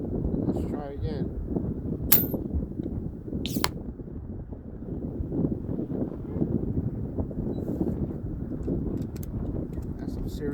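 Strong, constantly shifting wind at an outdoor 120-yard FX Maverick air rifle range makes a continuous low roaring buffet against the microphone throughout, with a couple of brief sharp clicks standing out near the start.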